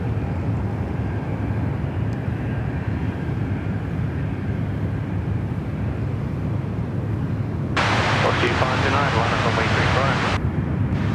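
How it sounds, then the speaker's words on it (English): An Asiana Airbus A350 on approach to land at Sydney Airport, heard as a loud, continuous jet roar heavy in rumble, with a rushing surge of noise partway through as it passes close. "here we go, the Asiana A350. It's no 380, but it's nice to see them on runway right here."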